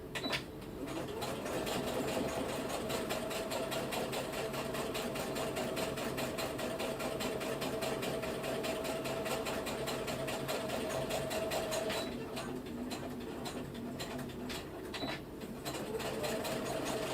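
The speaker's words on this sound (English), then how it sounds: "And then we're just going to sew straight across it." A sewing machine stitches straight across fabric in a fast, steady mechanical whir that runs continuously, dipping briefly near the end before resuming, with no talking.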